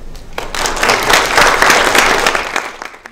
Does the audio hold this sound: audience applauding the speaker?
yes